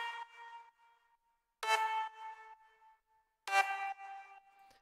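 A bright, layered big room main lead synth from an FL Studio track plays two loud stabbed chords, each followed by a trailing, fading melodic tail, with no other instruments or voices.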